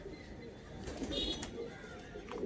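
Sri Lankan pigeons cooing in a loft, soft and low, with a faint chirp over quiet background noise.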